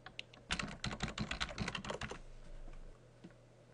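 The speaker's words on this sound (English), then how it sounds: "So here I'm going to type in the user account that is currently running the vCenter services." Rapid keystrokes on a computer keyboard as a user account name is typed during a VMware vCenter Server upgrade, a quick burst of close, quiet clicking that stops abruptly, leaving a faint room hum.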